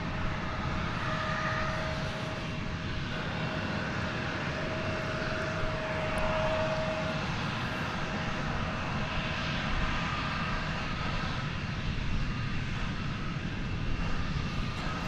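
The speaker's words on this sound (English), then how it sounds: "I count with an American Eagle plane approaching" An American Eagle airliner on approach at DFW airport, a steady broadband engine roar that stays loud and continuous throughout, with a faint tonal whine in the middle, and no talking.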